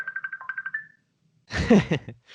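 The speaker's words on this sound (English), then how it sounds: "It won't quit ringing." A phone gives a quick series of repeated electronic rings, clear and close, then stops, and a voice speaks briefly afterward.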